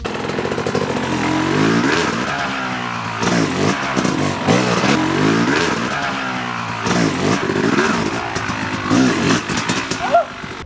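A dirt bike engine revs and blips repeatedly during a turn-around trick, loud and close, with rising and falling throttle bursts and clutch-timed surges throughout.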